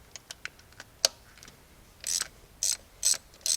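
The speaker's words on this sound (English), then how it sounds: "Just take your 3/8 drive ratchet," A 3/8 drive ratchet with a 13mm socket loosening power steering pump pulley bolts on a 2003 Pontiac 3.4L V6, heard as a quick series of close clicking ratchet strokes followed by several louder bursts of rapid clicking.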